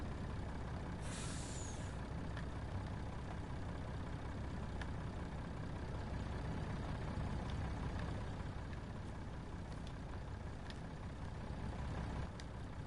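A Farming Simulator 19 truck gives a sharp air brake hiss near the start over a steady idling engine drone, followed by faint ticking sounds across the rest of the clip.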